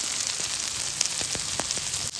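Prawns fry on a hot tawa griddle during night cooking at a forest camp, giving a steady, hissing sizzle with scattered small pops and crackles, close up and without talk.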